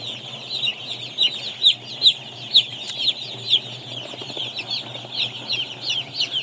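Chicks cheep in a brooder warmed through plastic sheeting with ventilation above. The high, rapid peeps overlap one another in a continuous chorus over a low steady hum.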